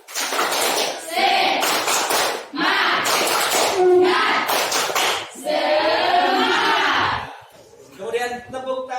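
Elementary-age students in a classroom clap in rhythmic bursts of spirited group applause, loud and close, with short pauses between rounds and children's voices shouting along.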